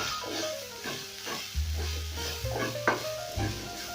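Capsicum goes into a hot pan and is stir-fried, giving a steady close sizzle broken by the scrape and clatter of stirring.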